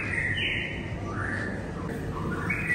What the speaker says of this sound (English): I like these little birds.